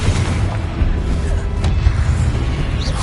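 Confringo explosive spell blast in Hogwarts Legacy, a loud, dense booming roar with heavy low-end rumble that fills the whole stretch, a slightly sharper burst near the middle, and no clear voices on top.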